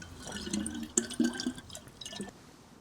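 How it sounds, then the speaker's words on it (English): A water bottle fills in the video game DayZ, with soft irregular drips and gurgling splashes at a modest level and no speech. "and then we can fill up the bottle"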